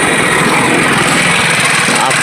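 A Maestro Edge scooter engine running with a fault that gives it a rough, tractor-like noise, a loud, continuous close-up drone with a coarse rattling texture that stays constant throughout.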